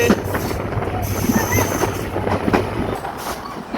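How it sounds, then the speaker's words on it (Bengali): The Chitra Express pulling out of Alamdanga station, a close, steady rumble of rail cars with faint rhythmic wheel clatter and a thin high squeal over it. "আমার জন্মভূমি চিত্রা এক্সপ্রেস আলমডাঙ্গা ছেড়ে যাচ্ছে"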